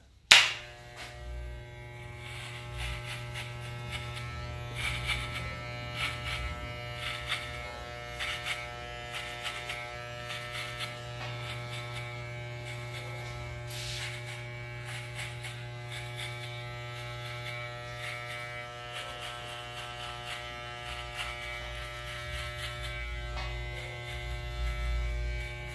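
Electric hair clipper fitted with a number one guard cutting hair for a shaded fade, a steady close buzz running continuously throughout.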